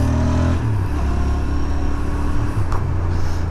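A Royal Enfield Interceptor 650 twin-cylinder motorcycle accelerates, its engine droning steadily with a shift in pitch partway through, loud and close against wind noise.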